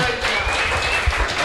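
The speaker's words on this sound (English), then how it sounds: "Let's have a big round of applause for Elijah." Audience applause at a live community show as a young boy named Elijah is welcomed up front, a brief, steady wash of clapping at moderate loudness.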